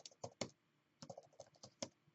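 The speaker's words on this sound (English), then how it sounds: "I'm using the keyboard now." Fingers type on a computer keyboard in quick, irregular bursts of soft clicks with a short pause in the middle, close and quiet, with no speech.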